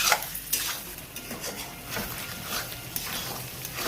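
Chicken is sautéed dry without water in a pan, the spoon repeatedly clinking and scraping against the metal over a low sizzle, with no voices.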